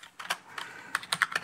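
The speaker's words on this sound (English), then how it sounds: "as I'm typing on the keyboard here" Keys on a Tandy computer keyboard are typed in quick, irregular clusters of crisp clicks, close and fairly quiet, with short pauses between bursts and no voices.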